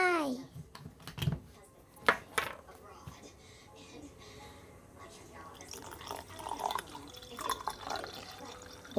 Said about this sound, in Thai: วันนี้เราจะใส่เป็นโซดานะคะทุกคนเราอยากได้ความ ซูซ่าสักหน่อย ใส่โซดาลงไป